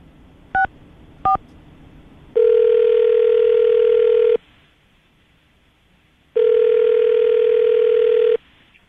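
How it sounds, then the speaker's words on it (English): A telephone line gives two short dialing beeps, then two long, steady electronic tones separated by a pause, each lasting about two seconds, all clear and close with no talking. "I'm going to dial the phone number, see if we can get her on the phone"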